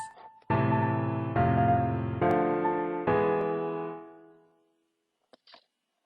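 Four sustained chords played one after another at an even pace, ringing together before fading into silence, with a faint click at the end.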